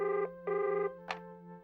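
A telephone rings twice in close succession, clear and electronic, followed by a short click; no voices.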